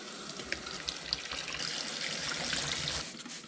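Water runs steadily from a tap, splashing and trickling as a Yamaha TW200 air filter is washed out, with a few sharper drips and splashes up close.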